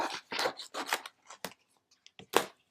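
Scissors snip around a sheet of iron-on vinyl in a quick series of crisp, close cuts, busy at first and then thinning to a few sparse snips, with no talking.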